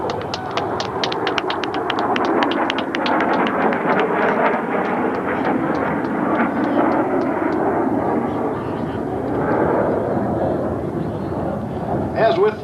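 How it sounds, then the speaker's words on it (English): B-2 Spirit stealth bomber flying over an air show at Edwards AFB, a loud sustained jet roar with wind rumble that swells and slowly fades, under an announcer's voice and crowd ambience. "Take a look now over the control tower to your left. The B-2 Spirit, advanced technology stealth bomber."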